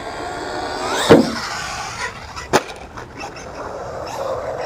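An Arrma Vorteks 223s RC truck driving and jumping outdoors, an electric motor whining up and down with two sharp thumps from landings, close by.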